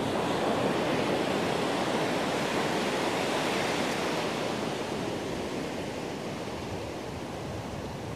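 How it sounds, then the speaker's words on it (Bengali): Big sea waves surging onto a deserted red-sand beach on the Bay of Bengal at high tide in strong wind, a continuous loud roaring wash with no talk. "আরে কি বড় বড় ঢেউ।"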